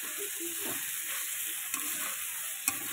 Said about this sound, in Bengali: দিয়ে এটাকে আমি এখন ভালো করে নাড়াচাড়া দেব